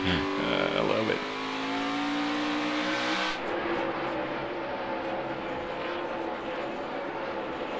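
NASCAR Cup Series stock cars at a short-track race run three wide for the lead, a loud sustained engine roar with shifting pitch tones as the pack passes, settling into steady track noise.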